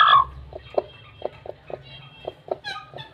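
A broody hen clucking, a series of short, soft, evenly spaced clucks at close range, with a brief sharper call near the end.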